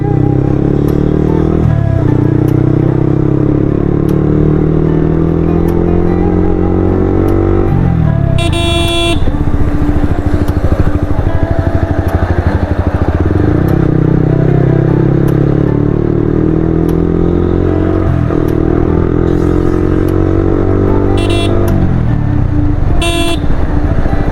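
A higher-cc motorcycle with an aftermarket exhaust fitted roars loudly while ridden, engine pitch rising and falling through repeated gear changes, with a few short horn toots from nearby traffic over constant road and wind noise.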